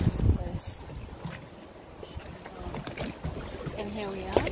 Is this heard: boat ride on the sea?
yes